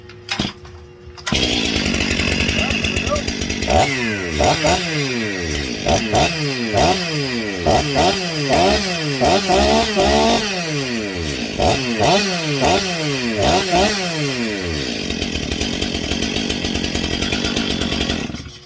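A Stihl-style 500i chainsaw with a newly replaced cylinder head fires up after a brief pull and runs loudly, the engine revving up and down in repeated rising and falling bursts before dropping back to idle and stopping.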